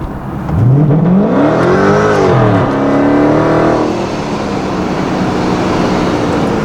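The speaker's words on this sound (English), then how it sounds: "And we got wheel spin again." A car engine revs hard through rising and falling pitch sweeps as its wheels spin, loud and close, then settles into a steadier drone.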